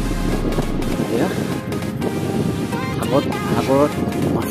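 Wind gusts and sea noise rush past a microphone on a fishing boat at sea, a rough, continuous roar with a voice talking over it.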